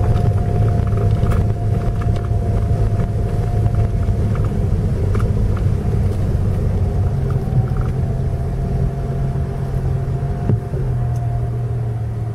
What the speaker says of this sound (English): My tires are squealing.